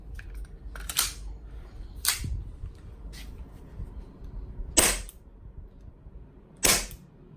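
Shots from a gas blowback airsoft pistol loaded with gas and BBs ring out as five sharp, loud cracks spaced about a second or two apart, with a low background hum and no talking.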